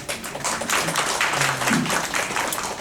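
Audience applause at a university lecture on teaching methods, a steady wash of many hands clapping at moderate loudness throughout, with faint voices murmuring underneath.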